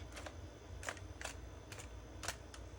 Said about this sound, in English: what you're going to do is you're just going to pull the bolt all the way back